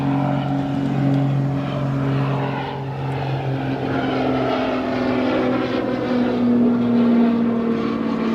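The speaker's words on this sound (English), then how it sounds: "here is our tiny little Cape Air Cessna coming in at Chicago O'Hare International Airport" A tiny Cape Air Cessna propeller plane comes in to land at Chicago O'Hare International Airport, a steady droning engine hum with a low buzzing tone that holds evenly throughout, heard from a distance.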